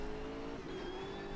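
A BMW M6 GT3 race car engine in Automobilista 2 holds a steady, moderately loud drone with a brief dip partway through, heard alone without talk.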